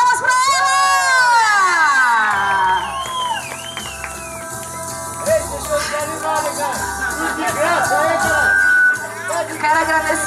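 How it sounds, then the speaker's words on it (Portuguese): A birthday party crowd cheers and whoops loudly for the birthday girl, raised voices and shouts carrying on for several seconds over a busy, lively backdrop. "Uma salva de palmas pra ela!"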